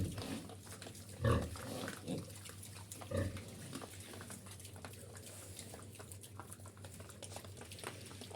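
Piglets feed close by, with soft wet chomping, snuffling and rustling, plus a couple of brief grunts.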